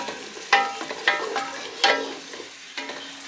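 Frozen garlic and ginger frying and being stirred in a pan while cooking dinner, with soft sizzling and a few sharp scraping clinks of a utensil against the pan.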